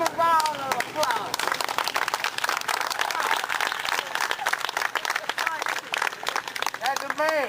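A crowd at a rally against violence claps and applauds in a dense, continuous patter that lasts the whole stretch, with someone talking loudly over it.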